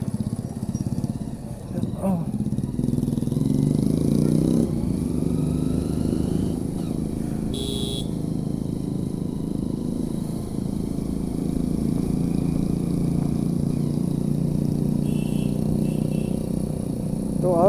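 A Bajaj Pulsar RS 200 and a Hero Splendor on a group Sunday ride through town give a continuous, moderately loud engine drone, with a voice talking over it throughout.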